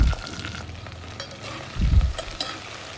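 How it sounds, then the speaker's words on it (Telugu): Okra pieces tipped into hot oil tempering and stirred in a pan, giving a close sizzle and scraping that swells in a short burst near the end, with no talk. "ఇప్పుడు మనం కట్ చేసి ఆల్రెడీ పెట్టుకున్న బెండకాయ ముక్కల్ని ఈ పోపులో వేసుకోవాలి"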